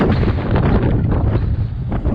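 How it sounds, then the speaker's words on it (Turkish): Strong wind buffets the microphone in a continuous loud rumbling roar in Cartagena, Colombia's city centre, with no voices heard. "Acayip bir rüzgar var."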